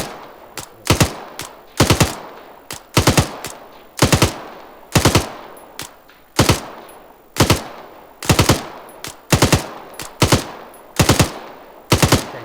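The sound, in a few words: sustained machine gun suppressive fire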